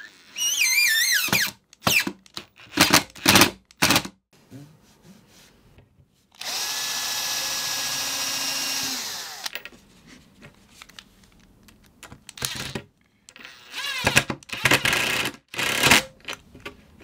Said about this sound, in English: Then you just pre-drill and drive screws into the tabletop,